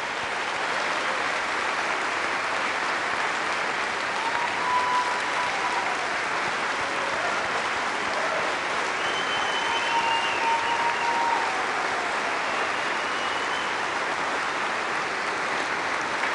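Crowd at the USS Arizona Memorial, Pearl Harbor, applauding veterans at a 75th anniversary ceremony: long, steady, dense clapping from many hands, with faint whistles or calls rising above it now and then.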